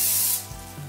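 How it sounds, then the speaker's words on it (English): Dry shampoo sprayed from an aerosol can onto the underside of a hair section, a steady close hissing burst that fades into a softer lingering spray. "I'm gonna actually spray to the underside of the section above it"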